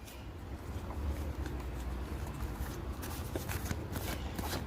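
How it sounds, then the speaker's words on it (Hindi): Tarot cards are shuffled and drawn during a yes-or-no reading, giving a soft, continuous papery rustle at close range with no talking. "एक यस और नो के लिए कार्ड निकाल लेती हूँ।"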